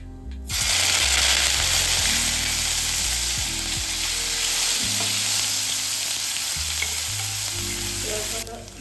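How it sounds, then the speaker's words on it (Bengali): Onion paste frying in oil makes a strong, continuous sizzle that starts abruptly and holds steady, with the scrape of stirring underneath and a low mechanical hum in the background. "পেঁয়াজ বাটা দিয়ে দিচ্ছি।"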